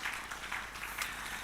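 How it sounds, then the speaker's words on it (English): Applause from a plenary-session audience at a conference, a soft, steady wash of many hands clapping at a distance, faint and brief. "Can we please give our rapporteurs a round of applause?"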